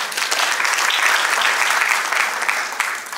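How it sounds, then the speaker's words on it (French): Audience applause at a talk on women's leadership and citizenship, a dense, loud burst of clapping from a full room that holds steady for a few seconds, then starts to fade. "je vous prie de l'applaudir"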